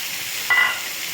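Soybean chunks hit hot oil with onions browning in a pan, giving a short, bright sizzle that rises for a moment and then settles back to a low, steady frying hiss.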